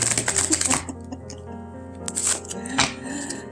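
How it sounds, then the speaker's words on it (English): Tarot cards are shuffled up close with soft riffling and slapping, a busy papery texture running throughout and a few sharper flicks along the way. "don't be using that as an excuse for your sloppy shuffling"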